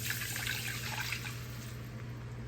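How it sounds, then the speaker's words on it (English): Two cups of water poured into a hot pan after toasting, a steady broadband hiss and trickle of liquid running continuously and evenly at close range, with no talk over it. "All right, in with my 2 cups of water."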